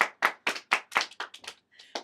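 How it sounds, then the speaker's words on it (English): Several people clap their hands in loose, uneven bursts, about a dozen sharp claps fairly close by with short gaps, with a brief voice near the end. "Everybody clap."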